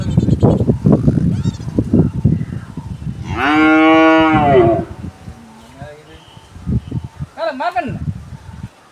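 A cow gives one loud, long moo lasting about a second and a half, close by, between stretches of people talking nearby.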